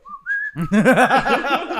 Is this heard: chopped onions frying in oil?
no